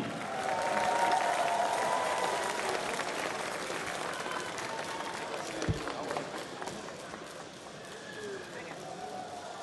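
Audience applause for the first lady of Estonia at the Bocuse d'Or 2013 cooking competition, a broad crowd clapping under a busy hall and ongoing commentary voices.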